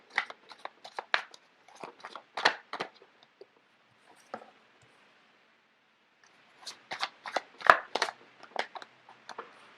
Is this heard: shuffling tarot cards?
yes